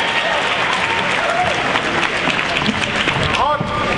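Audience applause at a bodybuilding show, steady dense clapping and cheering from the crowd throughout, with an announcer's amplified voice over it.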